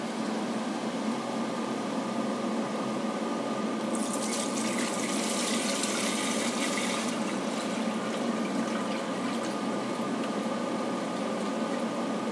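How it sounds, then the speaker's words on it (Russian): Raw spirit pours in a steady, continuous stream into the pot of a 5-litre copper moonshine still, a close liquid rush that brightens and splashes harder midway before easing back. "заливаем спирт-сырец в перегонный куб"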